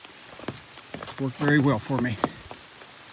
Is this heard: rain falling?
yes